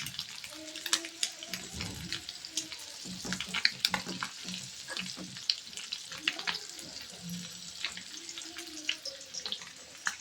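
Hot oil sizzles and crackles in a pan while fish is fried, a steady bubbling hiss with intermittent pops and clinks of utensils close by.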